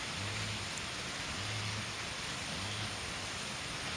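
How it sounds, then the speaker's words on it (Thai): Rain falls in a steady, even hiss that fills the air without pause, with a faint low hum pulsing underneath. "มันมาอีกแล้วเนี่ยพี่น้องฝนน่ะ"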